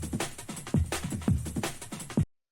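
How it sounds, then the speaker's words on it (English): A drum and bass break sample plays at moderate level, with punchy kicks and crisp snares and hats in a fast shuffling groove, cutting off after about two seconds. "the way that I made this was basically by taking this drum and bass break"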